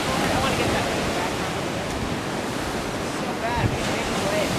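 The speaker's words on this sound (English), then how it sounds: "the waves are way too big" Large ocean waves crashing against a wall on a snorkeling trip, a loud continuous roar of surf with wind buffeting the microphone.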